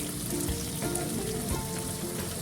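Spice masala sizzles in hot oil with turmeric and red chilli powder for a tilapia and pineapple curry, a steady close crackle of frying that runs without a break and without any voice.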